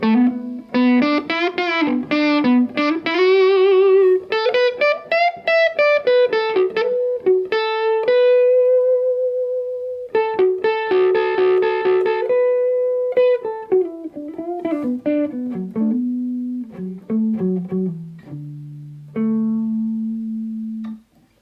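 Electric guitar played through a Fender Tone Master Deluxe Reverb amp with the guitar's volume and tone rolled down, a loud, continuous melodic run of picked single notes and slides, close and alone with no talk.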